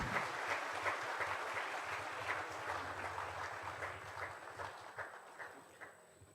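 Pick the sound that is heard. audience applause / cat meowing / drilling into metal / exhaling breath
audience applause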